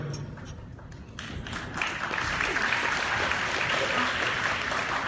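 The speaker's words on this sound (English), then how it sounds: "Clap after every answer to your question." Audience applause at a convention panel Q&A after an answer, a steady wash of clapping that swells after the first two seconds and holds loud to the end, with a hint of crowd murmur beneath.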